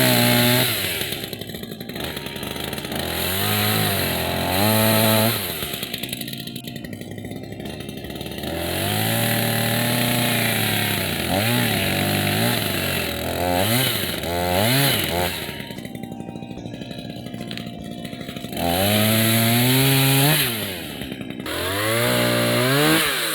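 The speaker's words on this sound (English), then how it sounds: "I'll cut this branch here first, and then I'll cut it about right here." A chainsaw cuts a tree branch, its engine roaring loudly and continuously up close, rising and falling in pitch as it revs and bogs through the wood.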